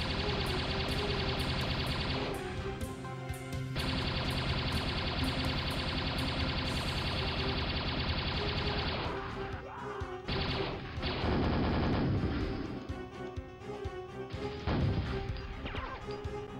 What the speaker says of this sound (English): Laser cannon time.